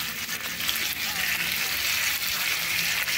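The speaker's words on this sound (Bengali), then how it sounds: "একটু আলুটা একটু ভেজে নিই" Potatoes fry in hot oil in a home kitchen pan, giving a close, continuous, even sizzle with a soft crackle throughout.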